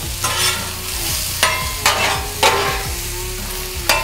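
Steak stir fry sizzles loudly on a Halo Elite4B griddle at about 600 degrees, a steady close frying hiss with repeated bursts of scraping and stirring as the meat is kept moving.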